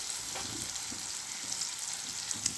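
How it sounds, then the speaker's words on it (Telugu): Beans frying in oil with dried red chillies over a low flame, a steady close sizzle with faint stirring taps throughout, no voices. "ఆయిల్ పెట్టి దాంట్లో కొంచెం ఎండుమిర్చి అన్నీ వేసి ఫ్రైకి పెట్టున్నాము"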